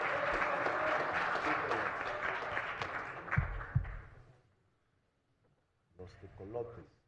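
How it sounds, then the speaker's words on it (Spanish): A crowd applauds at an awards ceremony honoring a mariachi group, with dense clapping for about four seconds that fades into quiet before a voice speaks. "Un aplauso más fuerte, es nuestro día"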